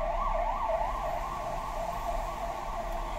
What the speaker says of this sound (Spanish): ¿pasarán ambulancias por aquí?